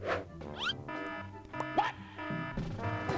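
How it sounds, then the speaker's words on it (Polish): An iPhone alarm-clock tone plays during a Minecraft video, as quiet repeating electronic tones with steady pitched pulses, mixed with game sounds and squeaks. "Czemu jest budzik z iPhone'a"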